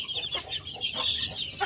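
A mother hen in a small backyard chicken coop clucks softly among her chicks, with short, high chirps and low clucks scattered close by over a brief moment.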